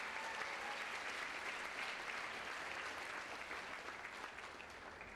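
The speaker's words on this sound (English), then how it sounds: "I want to again applaud you for doing a great job" Sustained applause from an evening show audience for national directors, TCOs and scouts, a dense steady wash of many hands clapping that fades slightly near the end.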